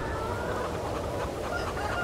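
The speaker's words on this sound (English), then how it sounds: "can we just move chickens around?" Farm chickens in the Farming Simulator 22 video game, clucking steadily and close up in a continuous overlapping chatter with no speech.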